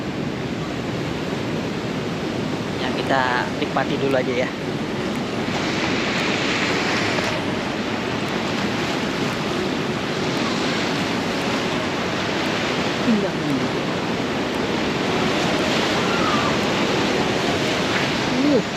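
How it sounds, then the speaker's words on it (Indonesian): Big ocean waves roll in at Tanah Barak beach in Bali, a continuous loud roar of surf with wind noise across the microphone, while a person speaks briefly near the start. "Ombaknya gede banget. Ini udah gede besar loh ombaknya."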